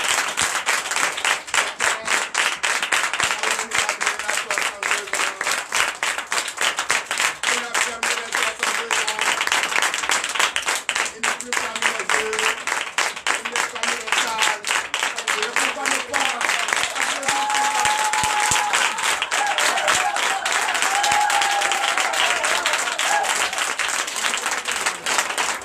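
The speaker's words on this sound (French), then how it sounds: "Que je vous demande d'applaudir encore très fort." Loud, sustained rhythmic clapping rolls on from a church congregation at a Sunday worship service in Benin, with a voice talking over the applause throughout.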